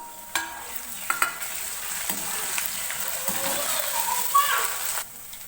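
Crushed ginger and green chilli sizzle in hot oil in a pan, a close crackling fry with several sharp stirring knocks and scrapes spread through it.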